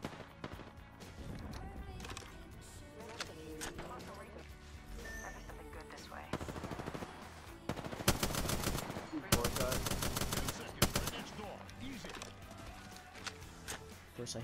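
Bursts of gunfire in the battle royale video game Apex Legends, heavy rapid volleys and single shots in clusters, loud against game sounds with a player talking throughout.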